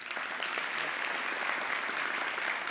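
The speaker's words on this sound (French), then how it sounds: "merci de l'applaudir" A TV studio audience at a Valentine's Day show applauds a guest, dense continuous clapping from a crowd, steady and fairly close throughout.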